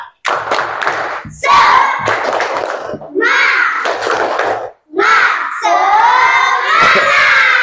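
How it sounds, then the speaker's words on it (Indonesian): Classroom of children performing the tepuk semangat clapping chant, rhythmic bursts of hand claps alternating with loud shouted chanting in several phrases, close and lively, with brief gaps between sections. "Tepuk semangat."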